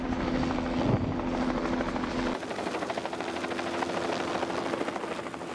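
Helicopter flying over Arctic sea ice near a research icebreaker, ferrying camp equipment; a steady, loud rotor and engine drone holds throughout, shifting in tone partway as the aircraft passes.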